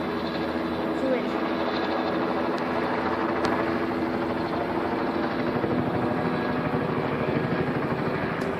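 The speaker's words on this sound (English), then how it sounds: "I'll wait till the choppers goes by." Helicopter passing overhead in an outdoor setting, its steady rotor drone and rhythmic blade chop holding at a constant level throughout, with faint background sounds beneath.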